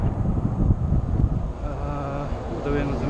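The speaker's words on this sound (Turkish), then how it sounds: "Böyle rüzgar karşıdan açıyor." Low, rumbling headwind buffets the microphone steadily, loudest in the first half, with a faint tonal hum toward the end.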